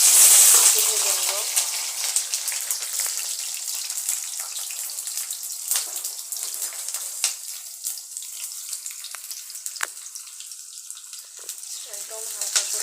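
Chopped garlic and green chili fry lightly in mustard or soybean oil, a steady soft sizzle with a faint crackle and occasional stirring clicks, close and continuous.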